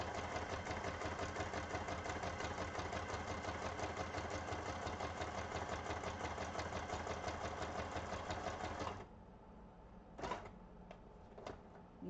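A small sewing machine runs a zigzag stitch on vellum, a loud, steady rapid mechanical chatter that continues for about nine seconds, then stops, leaving a few faint clicks and handling noises.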